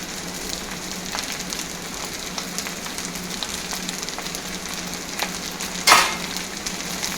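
Fried rice with spring onions stir-fried in a pan, giving a steady, moderate sizzle with faint scraping stirs and one brief louder hiss near the end, with no talking.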